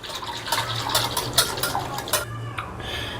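Spoon stirring salted buttermilk for masala mor in a vessel, a run of clinks and liquid swishes against the sides, close and moderately loud with short pauses between strokes.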